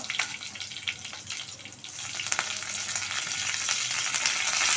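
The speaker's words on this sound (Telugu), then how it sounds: "కొంచెం వేపించుకుందాం. ఎండుమిరపకాయలు," Dried red chilies fry in hot oil in a pan for banana flower curry, giving a close, steady sizzle with crackling pops that grows fuller over a few seconds. No talk is heard.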